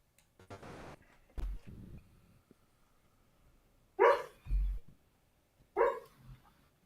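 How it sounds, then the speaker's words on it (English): A sleeping dog lets out muffled, soft woofs and yips, several short bursts spaced apart with quiet gaps between, heard nearby and alone. "She's barking in her sleep"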